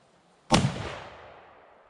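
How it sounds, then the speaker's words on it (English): A single sharp rifle shot from a .348 Ackley Improved firing a Speer 180 gr bullet cracks loudly and close, then rings out in a long fading tail over quiet. "gonna shoot one bullet across the chronograph and into that ballistic material"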